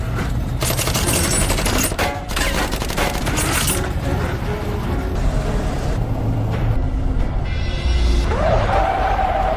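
Rapid bursts of film gunfire crackle in loud volleys over engine and vehicle noise, with busy action-scene sounds filling the gaps.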